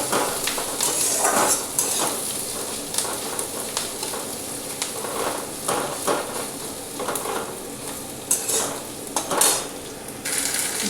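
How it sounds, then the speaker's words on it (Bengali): Onions being fried until reddish in a pan sizzle steadily while a spatula repeatedly scrapes and clinks against the metal in an uneven rhythm. "পেঁয়াজটা একটু লালচে করে বেশ ভাজবো"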